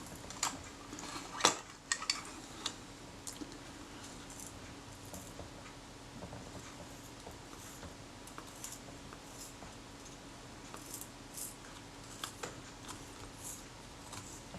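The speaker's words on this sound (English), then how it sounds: "Here I'm trying to scrape underneath the leather so that I can get it off without stretching it." A small tool scrapes beneath old leather covering on a Retina IIa camera, making close, faint scratching with scattered light metallic ticks and clicks throughout.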